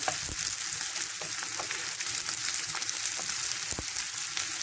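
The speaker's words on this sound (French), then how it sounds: "Je mets mes oignons à revenir un petit peu" Onions sizzle in hot olive oil in a pan, a dense, steady crackling hiss that holds evenly throughout, with a few faint clicks and no voices.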